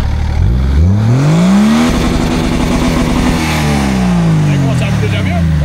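A Nissan Patrol fitted with a BMW 530d diesel engine revs hard with its intake unplugged, the pitch sweeping up, holding, then falling away in a loud, close drone while people talk over it.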